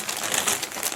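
Big plastic bag holding the sprue frames of an Airfix 2023 Mosquito PR.XVII 1/72 scale model kit crinkles and rustles continuously as it is handled, a close, dense, steady crackle with no voices over it.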